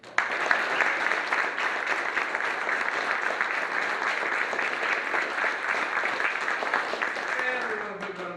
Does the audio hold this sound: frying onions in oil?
no